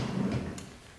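A shelf slides out of a homemade blind corner cabinet with built-in drawers, one short rumbling glide close by that fades quickly, no voices over it.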